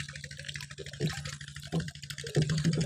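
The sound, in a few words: urea and sulphur fertilizer dissolving in water drum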